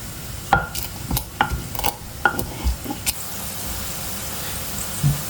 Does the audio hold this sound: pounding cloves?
yes